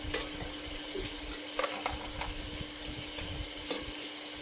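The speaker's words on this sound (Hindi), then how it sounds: "अब हम इसमें टमाटर ऐड करेंगे।" Steady sizzling of chicken karahi frying in a pan as tomatoes go in, a constant hiss broken by a few light clinks and sputters.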